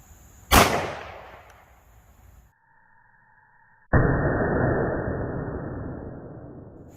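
A 9mm IMI 124-grain +P JHP round fired from a Shield pistol into a ballistic gel block about 10 feet away, heard as one sharp, loud outdoor shot with a long decaying tail, then a short quiet gap before a second, lower sustained rush.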